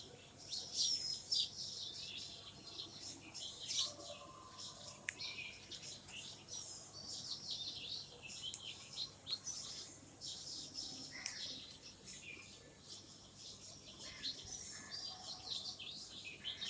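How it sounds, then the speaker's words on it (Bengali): Many birds chirp and tweet continuously at a distance on an early morning, with faint insect buzzing in the background. "পাখির কিচিরমিচির শব্দ খুবই ভালো লাগে"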